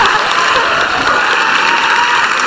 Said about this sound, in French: Applaudissez-les, encouragez-les